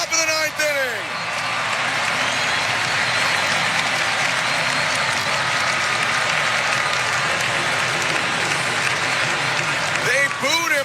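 A baseball stadium crowd roars in sustained, loud cheering and applause for pitcher Jeff Hoffman after a strikeout in the top of the ninth inning of ALCS Game 6, Blue Jays versus Seattle, with a commentator's voice briefly heard at the start and end.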